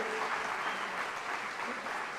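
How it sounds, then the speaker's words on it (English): An audience at the Saluki Athletics Hall of Fame ceremony applauds a track and field inductee, a dense, even wash of clapping held steady throughout. "We'll give you a round of applause"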